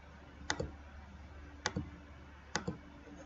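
A computer mouse clicks three times at a slow, even pace, each a sharp double click, close and quiet against a faint background hiss.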